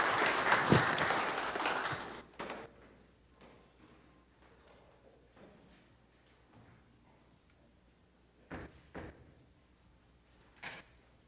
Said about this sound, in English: one more round of applause for Doug and the Parks Department